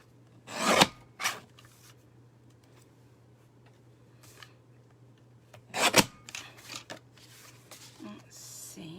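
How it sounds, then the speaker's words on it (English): A small paper trimmer slices cardstock in a few brisk rasping strokes, two near the start and another cluster later. A steady low hum runs underneath and soft handling noises fill the gaps. "Bring in my little trimmer."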